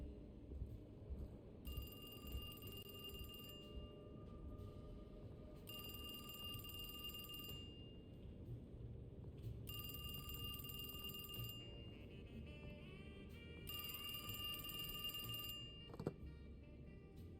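Telephone ringing in the horror video game Alone in the Dark, four evenly spaced bursts of a bright electronic bell with short gaps between them, over a steady low ambient game drone and no talk.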